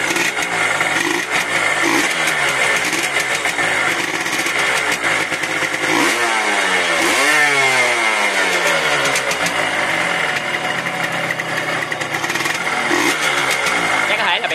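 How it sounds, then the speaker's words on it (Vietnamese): A motorcycle engine with a scored cylinder runs loudly up close, revving up and down with a rough, steady idle between revs, and a voice talks over it. "Đây mình đổ máy nè, gác lên thử nổ máy"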